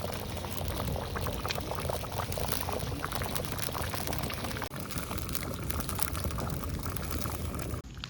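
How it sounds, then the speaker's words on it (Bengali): Desi red chicken curry boiling in a pot in a village outdoor kitchen, a steady loud bubbling and simmering that runs throughout with a brief dip near the end, no talking. "খাবার ফুটছে"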